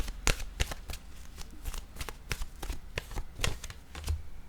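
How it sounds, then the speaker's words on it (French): Oracle cards shuffled by hand in quick sharp riffling bursts, a dozen or so crisp flicks and slaps in an irregular rhythm, close and clear with no talking. "Je vais piger maintenant une carte de mon oracle de l'âme intuitive."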